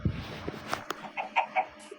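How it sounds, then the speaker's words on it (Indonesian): A chicken in the blocky survival game Minecraft gives a few short, clipped clucks in quick succession, close and fairly clear against a quiet background, with no talking. "Suara ayam."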